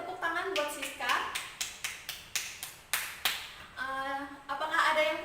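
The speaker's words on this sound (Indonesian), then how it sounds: "beri tepuk tangan buat Siska." Students in a classroom clap together in a slow, even rhythm, about a dozen sharp distinct claps, with voices heard briefly before and after the clapping.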